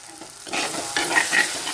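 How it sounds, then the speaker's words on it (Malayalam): A sudden surge of loud hissing and bubbling as hot water hits an oily pan, rising from a quieter sizzle. "ഇതിലേക്ക് നമ്മൾ തിളച്ച വെള്ളം ഒഴിച്ചു കൊടുക്കാം"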